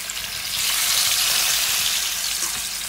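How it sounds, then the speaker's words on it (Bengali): Boal catfish frying in a pan, a steady broadband sizzle that swells slightly and holds loud and close throughout, with no voices. "এই মজাদার বোয়াল মাছ এখন দেখো আমি এই মাছগুলোকে ফ্রাই হতে দিলাম।"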